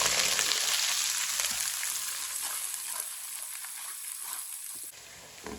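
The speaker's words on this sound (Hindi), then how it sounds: "एक चम्मच लहसुन का पेस्ट, 1 चम्मच अदरक का पेस्ट, दोनों चीजें डाल लेंगे साथ। 1 मिनट के लिए पका लेते हैं दोनों चीजों को।" Garlic and ginger paste sizzles and fries in a pan, a dense steady hiss close by that thins slightly toward the end.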